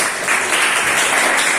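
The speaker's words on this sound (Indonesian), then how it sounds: "tepuk tangan untuk Malik benar-benar" Classroom applause for a student after a presentation, a steady dense wash of clapping from a group that holds at even loudness for the whole short stretch, with no voices over it.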